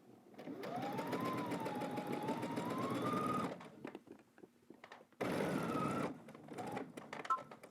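A domestic sewing machine runs basting stitches across a sleeve cap for a utility jacket, with two steady whirring bursts of several seconds each separated by a short pause, close and loud.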